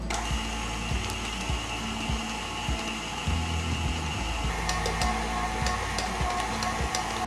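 On its lowest speed, a stand mixer hums steadily while powdered sugar is slowly sprinkled into cake frosting. The close, even motor drone comes with soft periodic knocks and no talking.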